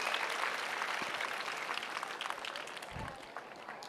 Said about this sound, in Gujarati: આટલું બધું ઓડિયન્સ હોય, તાળીઓ કેવી ગુંજે.